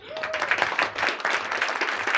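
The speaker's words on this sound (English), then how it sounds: "A round of applause, please." Audience applauding a member of parliament at a Dutch political launch event, a dense steady burst of many hands clapping that fills the room loudly throughout.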